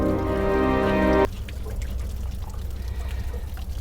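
Dirty water draining out of a worn tank, a steady pouring rush that cuts off abruptly, leaving a faint trickle and dribble afterward.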